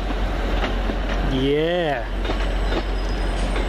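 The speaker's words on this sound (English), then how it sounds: "is our train back to Hereford." An Arriva Trains Wales locomotive-hauled passenger train stands at Cardiff station, giving a low, steady engine rumble throughout, with a brief voice heard partway through.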